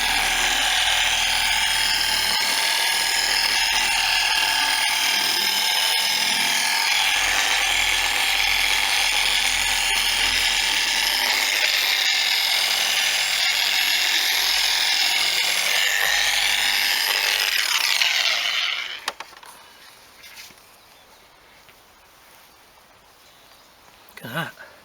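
A dual-action (DA) polisher works wax and scratches off the paint of a Toyota Celica, giving a loud, steady high-pitched whine for most of the stretch before cutting out to quiet handling noises.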